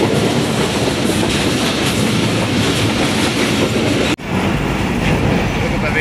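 Rehman Baba Express passenger train rolling on rails between Tando Adam and Karachi, heard from inside a crowded carriage as a loud, continuous rumble and rattle, with an abrupt momentary drop near the end.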